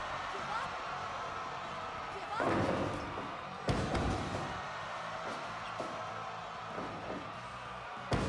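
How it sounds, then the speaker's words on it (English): Heavy thuds of a wrestler being slammed onto the floor at a live wrestling show, a few loud impacts standing out from a constant crowd rumble, with talk running underneath. "slams her and she falls to the floor"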